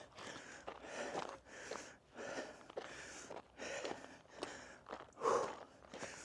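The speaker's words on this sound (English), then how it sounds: "sorry about the deep breathing" Heavy, rhythmic breathing from someone hiking up a hot mountain in the Basque Country, with steady repeated gasps and exhales close to the microphone and faint footsteps underneath.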